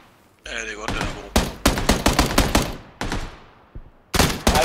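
Rapid bursts of gunfire in the battle royale game PUBG, several loud close volleys in quick succession with short gaps, under a brief voice.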